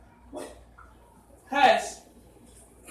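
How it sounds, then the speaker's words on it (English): Dogs bark in two short bursts, one brief and a louder one a second later, close by indoors, with a person speaking a quiet word over them. "Excuse the dogs."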